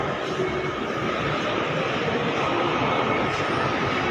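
Steady, loud rumbling roar of a moving train, with constant broadband noise and no talking.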